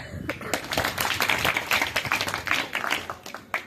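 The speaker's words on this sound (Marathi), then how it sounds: "टाळ्या." A classroom of secondary school students in Kajwade bursts into brisk, loud applause, a dense clatter of many hands clapping together close by for a few seconds.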